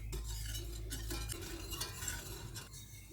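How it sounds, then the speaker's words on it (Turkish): A thickening sauce for a strawberry and rhubarb cheesecake is stirred in a pot on the stove, a soft continuous scraping and swishing over a low hum, close and quiet, with no voices. "Ve bu koyu bir kıvam alıncaya kadar karıştırarak ağır ağır pişireceğim."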